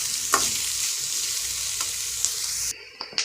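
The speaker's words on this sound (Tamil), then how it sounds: "இது கொஞ்சம் இந்த எண்ணெயிலே கொஞ்சம் வதங்கிட்டோம்." Vegetables sauté in hot oil with a steady close sizzle, broken by a few sharp scraping stirs before the frying noise drops away near the end.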